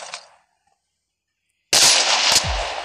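Gunfire in the mobile game Call of Duty Mobile, a brief faint burst, then quiet, then a sudden loud blast with a ringing tail, heard with no talk.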